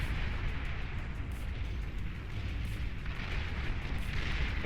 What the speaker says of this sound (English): the explosion of the starlight causes severe damage to